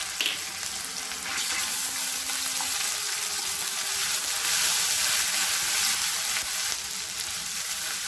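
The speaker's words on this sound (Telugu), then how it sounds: "అల్లం వెల్లుల్లి పేస్ట్ కూడా కొంచెం పచ్చివాసన పోయేదాకా ఇలా ఫ్రై చేసుకోవాలి" Ginger garlic paste and curry leaves fry with a loud, dense, continuous sizzle in oil for pepper chicken, close and unbroken, with no voices.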